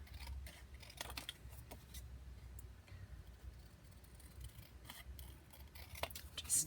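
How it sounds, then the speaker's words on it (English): Scissors snip through paper, trimming closely around the edges of a junk journal tag, a steady run of small crisp cuts close to the ear with faint handling noise between them. "I think I'm going to cut right on its edges"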